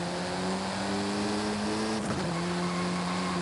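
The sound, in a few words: car engine and exhaust in Forza Horizon 5 video game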